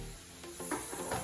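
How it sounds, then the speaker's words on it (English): Spaghetti squash pieces sizzle steadily in a frying pan, close and moderately loud, with a few soft stirring scrapes over the constant hiss. "Listen to that sizzle."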